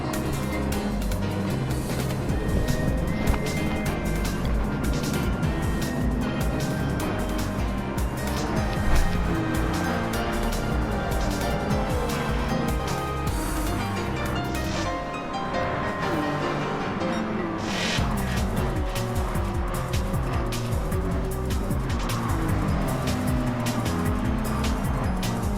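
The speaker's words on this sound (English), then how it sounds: "we got a bit of extreme Tokyo racing going on" Race cars in a Tokyo street racing video game, including a Mazda, roar continuously with revving engines and shifting pitch, loud and dense throughout with a brief dip near the middle.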